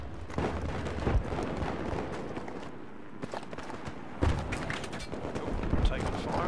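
Video game gunfire rattles in dense, overlapping bursts through a busy, noisy multiplayer battle soundscape, fairly loud and continuous with a brief lull partway through.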